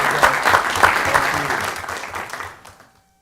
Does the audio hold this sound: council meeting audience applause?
yes